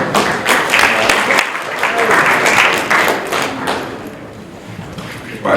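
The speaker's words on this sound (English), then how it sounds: "that was a weak clap" Thin, scattered applause from a small press conference audience after a vote of thanks, a few hands clapping unevenly for several seconds and tapering off.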